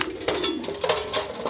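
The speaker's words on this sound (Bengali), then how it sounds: "সো বন্ধুরা কবুতরগুলো সবগুলোরে গোসল করাবো এখন, সবাই দেখবেন।" Pigeons coo in a short burst during bath time, soft throaty calls close by over a bright splashing, hissy background of running water.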